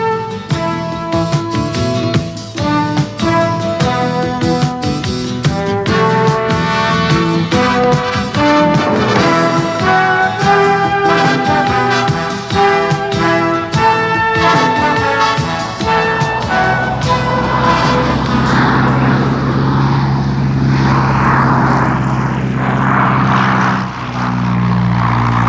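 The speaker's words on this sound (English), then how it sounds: "Passing salute from the SE-5A, the Bristol sets off." A Bristol Fighter biplane's piston engine roars loud and steady as the aircraft sets off, a constant propeller drone with a rising, rougher tone toward the end, no voices present.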